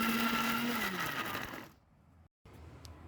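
A blender grinds bharta with no water added, a loud steady whir that holds for a while and then cuts out, followed by quieter kitchen noise.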